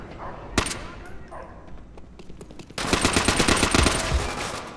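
Machine gun fire in the video game Call of Duty: World at War crackles in rapid bursts, with sparse shots at first, then a louder sustained volley from the midpoint to near the end.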